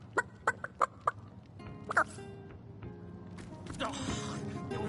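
A rooster clucks in a fantasy strategy video game, several sharp clucks and squawks in quick succession, followed by a busier, noisier stretch of game sound with faint voices mixed in.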